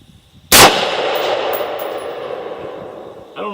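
A single loud rifle shot cracks out on a 50 yard zeroing range, followed by a ringing, echoing tail that fades slowly, with no talk over it.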